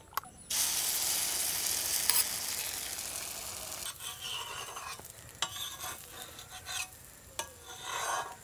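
An omelette fries in a pan, making a bright, continuous sizzling hiss that later thins into uneven crackles and scrapes as it is worked.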